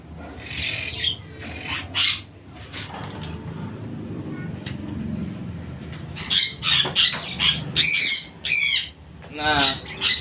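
Quaker parrots and other parrots squawk and screech in a colony aviary, repeated harsh bursts coming close and loud, with a quieter low murmur in between.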